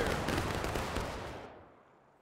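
A dense musket volley roars at once in the Civil War game War of Rights, a loud, thick crash of many guns firing together that rolls and fades away over about two seconds.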